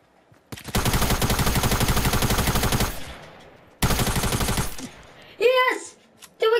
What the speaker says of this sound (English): I'm going to try and shoot this